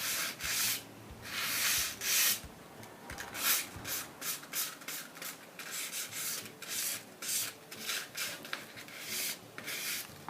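Sandpaper is worked gently over chalk-painted wood to scuff it, making a run of soft, rhythmic rasping strokes. Each stroke sounds close and fairly quiet, with brief pauses between the passes.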